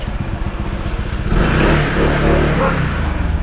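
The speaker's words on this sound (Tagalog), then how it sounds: "Yung motor ni Karin." A motorcycle engine idles with a rapid chug, then revs up loudly into a rough, rising roar before dropping back to a pulsing idle.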